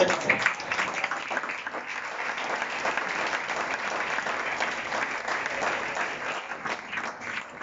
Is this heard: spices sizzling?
no